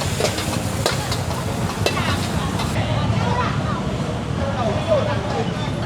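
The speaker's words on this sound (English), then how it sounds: "they've got a giant wok. There's like bean sprouts and stuff going in." Bean sprouts are stir-fried in a giant wok at a night market, a busy sizzle with scraping stirs under crowd chatter and nearby voices.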